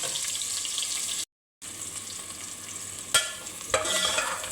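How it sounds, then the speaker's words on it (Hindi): Onions frying in oil until light golden for a hotel-style aloo baingan sabzi, a steady close sizzle broken by a brief silent gap, with a couple of sharp clinks of stirring near the end. "अब प्याज को भी हमने लाइट गोल्डन कर लेना है"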